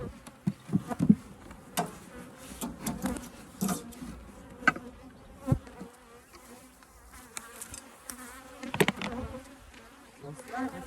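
Honey bees buzz around an open beehive during a hive check, a steady close drone with individual insects swelling loudly as they fly past.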